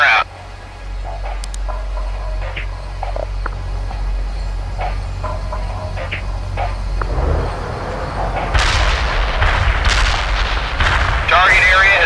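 Artillery barrage in the video game World in Conflict, a heavy rumbling bed of booms that erupts into sharper, louder blasts and crackling impacts toward the end, with radio-style voices speaking over it.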